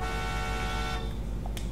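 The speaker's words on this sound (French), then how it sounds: "Klaxon, par contre, il est un peu pourri," In Final Fantasy 15, a car horn gives a long, steady, buzzy blast of about a second over a constant engine drone, followed by brief faint clicks.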